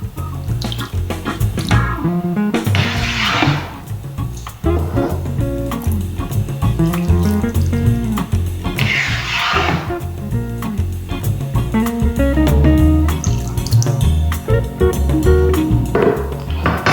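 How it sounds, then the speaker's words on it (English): Broth is poured into a bowl of wonton soup, a steady, splashy liquid stream that runs close and fairly loud over background music, with brief stronger gushes along the way. "And now we're going to add our broth."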